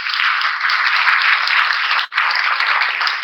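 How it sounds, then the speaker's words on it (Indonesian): Sustained, dense applause from a seminar audience on self-development and time management, clapping for three people, loud and steady, with a brief dip near the end before the clapping resumes. "Berikan tepuk tangan dulu buat 3 orang ini."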